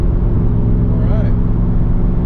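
Car engine of a California Special with a hidden twin turbo kit runs steadily with a constant low drone from inside the cabin during a test drive after minor repairs, loud and continuous with a brief faint whine in the middle.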